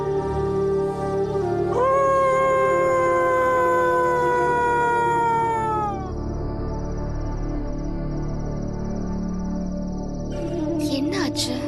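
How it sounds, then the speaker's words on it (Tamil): A dog howls at night in long, sustained, wavering tones that rise and then slowly fall, carrying loud and close over a steady low background hum, with a fainter second howl continuing after the first fades. "என்ன இந்த நேரத்துல நாய் ஊழையிடுது?"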